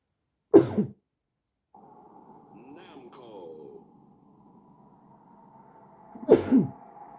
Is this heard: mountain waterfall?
no